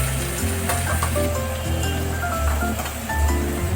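Chopped green chilli and tomato fry in a pan for an egg curry, giving a steady, loud sizzle with broadband hiss and occasional pops and scrapes, no voices.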